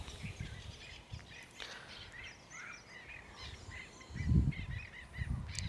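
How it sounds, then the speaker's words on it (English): Geese or similar birds honking and calling outdoors near a back porch, a steady chorus of scattered calls with a louder low burst near the end, no talking. "making lots of noise"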